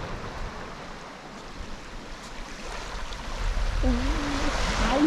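Sea waves at a beach wash in steadily as someone paddles in wellies, a broad continuous surf hiss that swells louder toward the end, close and alone without talk.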